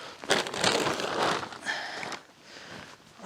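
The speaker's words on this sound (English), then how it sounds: "the kneeling pad is a cushion that I've then put into a plastic bag" A plastic bag wrapped around a cushioned garden kneeling pad crinkles and rustles close up in bursts, loudest early on, then fading to softer handling.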